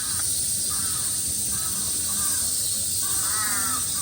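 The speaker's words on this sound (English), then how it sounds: "crows going in the background" Crows caw repeatedly in the distance near a Tokyo museum garden pond, short harsh calls spaced every second or so over a steady outdoor hiss.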